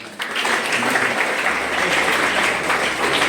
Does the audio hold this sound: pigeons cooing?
no